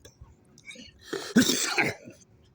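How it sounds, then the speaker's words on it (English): A single short cough, close and moderately loud, with faint sounds around it. "a little cough"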